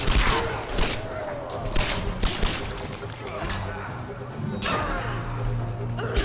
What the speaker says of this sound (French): Excuse-moi, j'ai mal tiré.